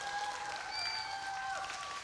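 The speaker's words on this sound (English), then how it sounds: "Give a round of applause for Peter for making his mark." A small audience gives a brief round of applause during an International Dot Day livestream, soft steady clapping that runs evenly throughout at a moderate distance.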